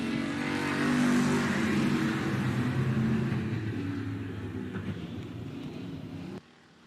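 Race cars roar around the 105 Speedway oval in Texas as a race restarts after a caution, a dense, loud engine drone that swells then gradually fades before cutting off abruptly.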